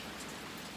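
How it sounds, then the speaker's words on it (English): Rain falls outside in a steady, dense hiss of drops, even and continuous through the moment, with no voices. "Sure is raining out."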